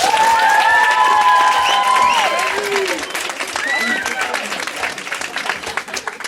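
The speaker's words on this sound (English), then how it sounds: "So please give a large round of applause for Mr." A comedy show audience applauds and cheers as a comedian is introduced, a dense crowd roar with whistles over it that gradually thins.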